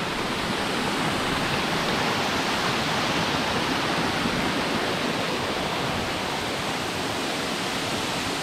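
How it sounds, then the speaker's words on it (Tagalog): Balagbag Falls in Quezon pours in a steady, loud, broadband roar of falling water, unbroken and close for the whole stretch with no voices over it. "Balagbag Falls. Grabe, angas ito."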